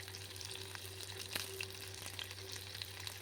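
Shallots and garlic sautéing in a pan produce a faint, even sizzle with occasional light clicks of stirring and a steady low hum in the background.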